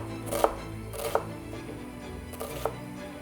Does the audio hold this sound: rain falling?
no